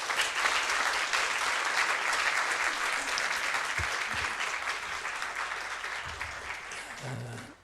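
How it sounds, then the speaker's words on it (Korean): An audience at a church revival meeting applauds to welcome a pastor, with sustained loud clapping from many hands that fades at the very end. "박수로 그렇게 뜨겁게 환영해 주시면 감사하겠습니다"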